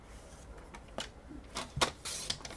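Card stock being cut to size for a handmade card, with a few short scraping and snipping strokes and a louder slide near the end, close and with no talk.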